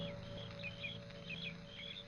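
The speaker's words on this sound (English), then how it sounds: "The sound of birds and crickets seemed loud in my ears" Faint birds chirping and crickets trilling in a radio drama, soft repeated calls over a quiet, steady background hum.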